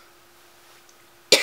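After near silence, one sudden, sharp cough bursts out close by.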